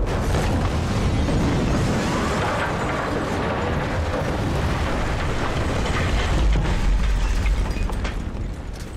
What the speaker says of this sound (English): I'm doing it with the 25mm cannon on the Little Bird.